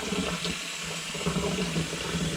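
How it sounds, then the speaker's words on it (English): Cold water runs steadily from a kitchen tap while chickpeas for hummus are rinsed and cooled, a continuous close splashing hiss with no talk. "Get them under cold running water."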